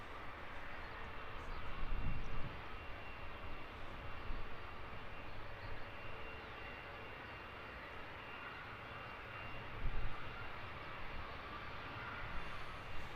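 An EasyJet Airbus A320neo departs London Luton Airport, its engines a steady, distant broadband roar with a low rumble that swells slightly in places, heard faintly from the spotting position.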